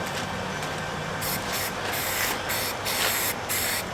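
Spray paint can hissing in short, quick bursts as thin coats go onto an E-11 blaster replica, a close, steady airy spray broken by brief pauses between passes.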